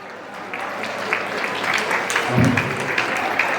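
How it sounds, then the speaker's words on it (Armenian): An audience applauds steadily and loudly, a dense wash of clapping that swells slightly toward the end, with a few voices mixed in. "շատ բարձր ծափերի ներքո դիմավորում ենք ձեր ծափարությունները"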